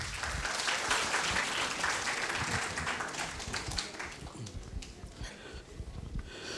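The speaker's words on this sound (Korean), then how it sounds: "큰 박수로 맞이하겠습니다" Applause welcoming a newspaper editor-in-chief to a local talk, a steady dense patter of many hands at moderate distance that continues evenly for several seconds.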